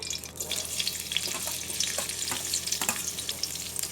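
Onion goes into hot oil in a pan, giving a soft, continuous sizzle with scattered crackles and pops over four seconds, fairly quiet and with no talk.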